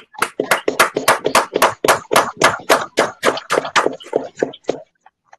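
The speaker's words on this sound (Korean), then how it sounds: "우리 뜨거운 박수 한번 보내드릴까요?" A small audience at an online candlelight rally condemning Japan's Fukushima wastewater release claps in a quick, close run of about fifteen distinct strikes that thins out and stops.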